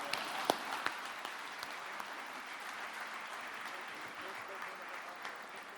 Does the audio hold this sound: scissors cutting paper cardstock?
no